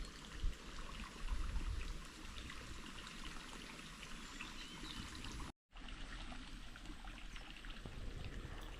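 A small seasonal monsoon stream flows and trickles steadily nearby, a continuous soft burble with no voices, briefly cut for a moment near the end.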